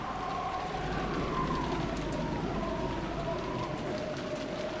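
Steady, even rain hissing as a soft continuous wash with faint pattering drops, heard alone without voices.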